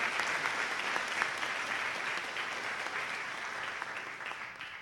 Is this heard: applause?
yes